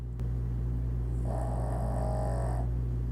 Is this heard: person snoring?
yes